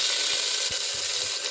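Browned onions with ginger garlic paste frying in a pan for chicken saaru, a steady loud sizzle with a few faint scraping knocks of a utensil and no talking.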